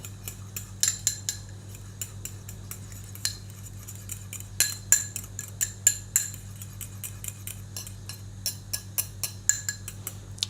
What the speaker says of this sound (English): Gotta stir that stuff.